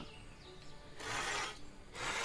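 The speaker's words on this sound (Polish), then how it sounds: "A tu jest piła do cięcia" Two short bursts of rasping back-and-forth sawing from a saw in the Everdream Valley video game, each about half a second, close and clear over a faint ambient game background.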